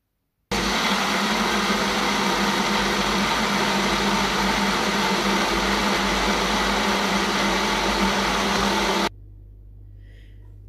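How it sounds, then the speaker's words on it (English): A blender whirs loudly and steadily while blending mint and coriander chutney, a dense motor roar holding for about eight seconds before cutting off abruptly, leaving a faint low hum. "so the chutney is all blended, all the ingredients are now blended"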